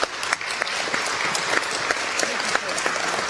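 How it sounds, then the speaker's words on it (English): A steady round of clapping from an audience at an honors society induction ceremony at Grand Canyon University, dense and continuous throughout with scattered louder claps and no talking over it. "Let's give a huge round of applause to this year's inductees."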